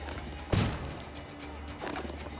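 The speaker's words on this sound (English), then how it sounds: "More flashbangs." A flashbang going off in Tom Clancy's Ghost Recon: one sharp, loud burst with a short decaying rumble, then a softer second pop near the end over steady game ambience.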